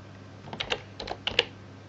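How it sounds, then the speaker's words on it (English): A few quick keystrokes typing a variable on a computer keyboard, several light clicks spread over two seconds, close and fairly quiet, with no voice. "If I now simply type the variable"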